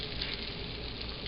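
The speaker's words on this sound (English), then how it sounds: "take a look at the butter. It's sizzling a little bit." Butter sizzles in a frying pan while shrimp cakes sear, a steady, soft hiss of frying with no talking.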